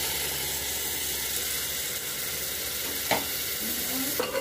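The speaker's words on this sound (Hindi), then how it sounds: "मसाले के साथ टमाटर भी अच्छे से भुंजा गया" Ground tomato paste and spices frying in a pan for Punjabi-style chole, a continuous dense sizzle close up, with a few scraping stirs near the end.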